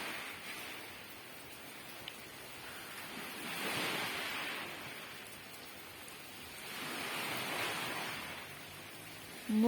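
Sea waves roll onto a beach in the rain, two slow swells of surf rising and falling over a steady wet hiss of rain and light wind buffeting the microphone.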